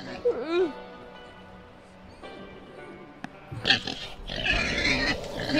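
Pigs grunting and oinking just outside a door, a few squeals near the start, then under louder talk and movement as people speak over them.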